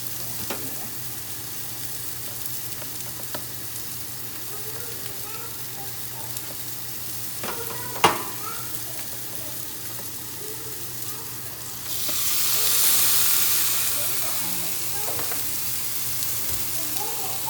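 Hamburger patties sizzle steadily in a pan, a soft continuous crackle with a few sharp clicks and a brief louder hiss near the end.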